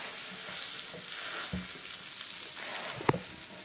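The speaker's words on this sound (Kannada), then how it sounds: "ಚೆನ್ನಾಗಿ ಹೊಡೆದ್ಬಿಟ್ಟು ಎಗ್ನ ನೋಡಿ ಹಂಗೆ ಹಾಕ್ತೀನಿ" Beaten egg frying in a multi maker, a close crackling sizzle running throughout with a few small clicks and one sharper tap near the end, no talking.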